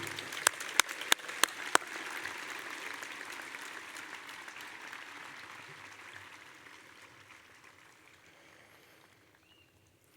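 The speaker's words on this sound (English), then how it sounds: "Let's have another round of applause for our spectacular musical performances this evening" Graduation audience applause for musical performances at Staples High School in Westport, Connecticut. A few sharp claps open a broad wash of clapping that gradually fades away into quiet.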